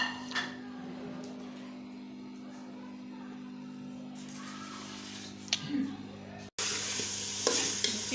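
Chicken frying with onion and tomato in a pressure cooker, a steady low sizzle with occasional stirring scrapes, close and moderately loud, no talk over it.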